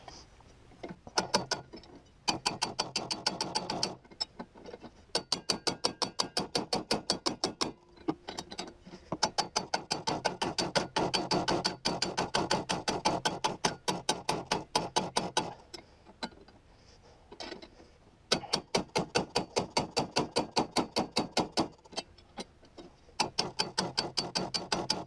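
A ratchet wrench works back and forth on a stuck part of a rotting 1970s Yamaha snowmobile, giving long runs of rapid, loud clicking close by in bursts separated by brief pauses, with no talking.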